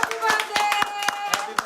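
Audience applause at a live show with Vreegu Kashyap and Priyam Pallabee, a burst of sharp hand claps repeating in quick succession close by, over a steady background tone.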